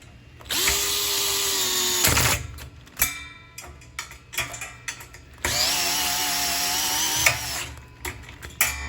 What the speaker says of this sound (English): I'm going to use my DeWalt gyroscopic driver and 3 millimeters and tighten all down